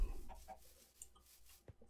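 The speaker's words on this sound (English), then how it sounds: "Oh, there's another chicken." A chicken clucks in the Minecraft video game, a few short soft clucks under quiet game ambience with no voice.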